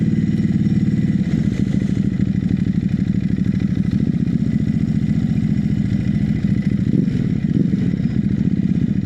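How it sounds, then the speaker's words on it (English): A new motorcycle's engine runs steadily on a ride around Brighton, a loud, close, continuous low throb with a pulsing mechanical rhythm and slight rises in revs, no speech over it. "New bike is bloody great. I love the sound of it."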